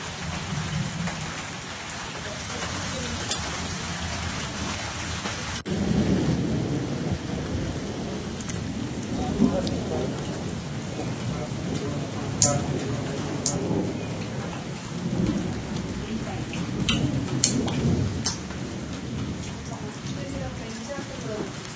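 Heavy rain pours and wind blows in Chikkamagaluru, with thunder cracking now and then over a constant dense hiss while a voice speaks over the storm.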